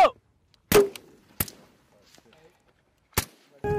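Sharp, loud blasts of rockets launched at a Marine rocket range at Fuji ring out one at a time with gaps between, each a sudden crack with a short echo, alongside faint shouted voices.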